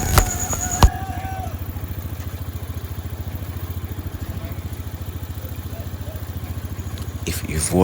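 An Apsonic 175 motorcycle engine idles steadily with a regular, throbbing putter after a brief clatter at the start, close and continuous throughout.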